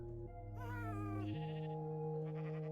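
A blocky Minecraft sheep bleats in a few wavering, nasal cries, close and clear, with faint game ambience around it.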